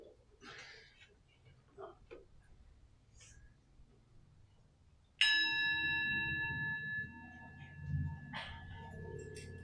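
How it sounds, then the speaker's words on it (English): A church bell struck once at the start of a Sunday service, ringing out with a sharp attack and a long, bright sustained tone over soft room noise, after quiet murmuring and shuffling. "Where's the bell?"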